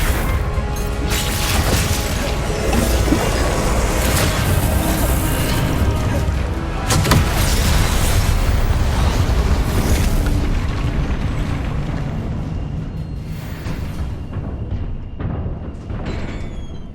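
Spell blasts and explosions in the Hogwarts Legacy video game, a dense, loud stretch of booming bursts and crashing impacts that layer over one another with hardly a pause, with sharper hits standing out now and then.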